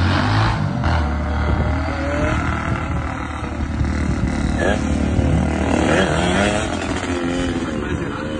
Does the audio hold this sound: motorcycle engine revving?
yes